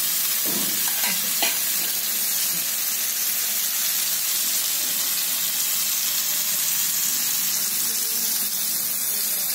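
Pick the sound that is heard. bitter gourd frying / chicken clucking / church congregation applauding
bitter gourd frying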